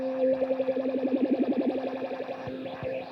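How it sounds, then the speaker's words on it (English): A guitar run through an effects pedal gives a swirling, warbling modulated tone with rhythmic bleating pulses in the middle, then a few sharp plucked notes near the end, steady and close. "You can hear the swirl and the bleats from this one."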